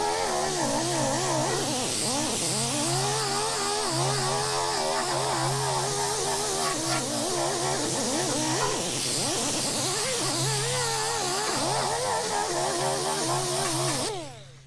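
A power tool fitted with a blue Wurth abrasive disc grinds rust off the bare steel of a never-built Foxbody, producing a loud, continuous rough whir with a wavering pitch as the disc is worked across the metal.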